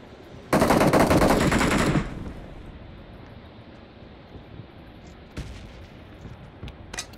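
A loud, dense burst of automatic machine gun fire in PUBG lasting about a second and a half, followed by quieter wind-like background and a few faint distant shots.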